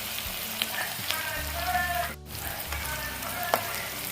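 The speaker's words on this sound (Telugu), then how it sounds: "మీడియం ఫ్లేమ్లో పెట్టుకొని మనం కొద్దిగా గోల్డెన్ బ్రౌన్ వచ్చేంత వరకు ఉల్లిపాయల్ని మనం వేపుకుంటూ ఉండండి" Sliced onions fry in oil on a medium flame for a karamenu fish curry, giving a steady sizzle with a few stirring knocks and a brief dip in the middle.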